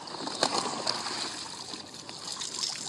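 Water trickles and streams into an old, 51-year-old life raft that is taking on water, a steady close gurgling flow with a few louder splashes.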